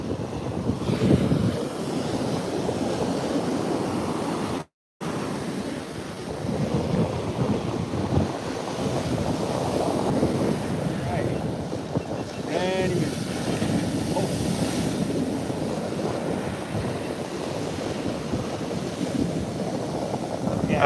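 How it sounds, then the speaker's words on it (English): Strong wind buffets the microphone over steady roaring surf on a South Jersey beach during a hurricane, a continuous loud wash for about twenty seconds, with a brief dropout near five seconds. "I mean, it's windy."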